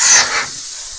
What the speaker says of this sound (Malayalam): പുട്ടുകൂടെ ആവി വന്നിട്ടുണ്ടെന്ന് തോന്നണം കേട്ടോ.